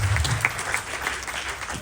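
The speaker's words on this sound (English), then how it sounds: "Clap for them, please." An audience at a Ganesh Chaturthi festival gathering applauds for sponsors, a full, sustained round of clapping from many hands that carries through the whole moment.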